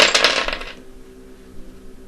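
Dice clattering onto a hard surface in a divination reading, a bright rattling burst of several quick hits that dies away within a second, leaving quiet room tone.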